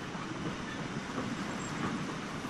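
A handmade model railway train runs steadily along its ballasted track, a continuous rumbling clatter heard alone and fairly close.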